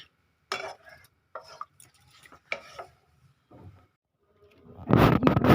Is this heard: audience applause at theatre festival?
no